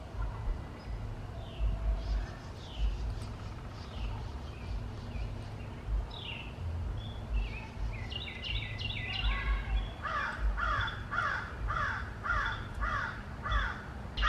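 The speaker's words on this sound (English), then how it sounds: "I know you can hear that crow" Repeated harsh crow caws ring out in a steady series, joined by other birds chirping over a low rumbling background.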